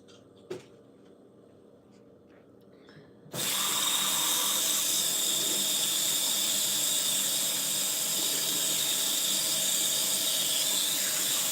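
Warm tap water running steadily in a kitchen sink while citrus is rinsed off hands, a loud continuous hiss and splash that starts abruptly after a few seconds of near silence with a faint knock.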